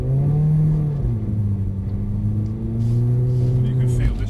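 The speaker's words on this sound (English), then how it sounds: "just put your foot flat to the floor" A Mercedes-AMG A45 under full-throttle acceleration gives a loud, steady engine drone that rises in pitch, drops briefly at a gear change and then climbs again. It is heard from inside the car with a faint voice beneath it.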